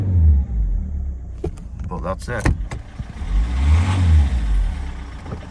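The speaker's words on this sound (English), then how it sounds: "Best thing to do with a cold engine is rev it, eh?" A cold car engine revs up twice in deep, rising roars that fall back to a rough idle, close by, with someone speaking briefly between the revs.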